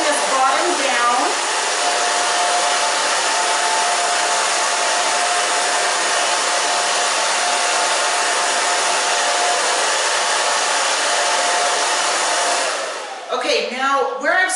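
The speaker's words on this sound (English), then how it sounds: "now I'm going to dry it. Gonna round brush it." A handheld hair dryer blows steadily and loudly for about thirteen seconds while hair is dried with a round brush, then cuts off, leaving brief faint movement and handling sounds at the end.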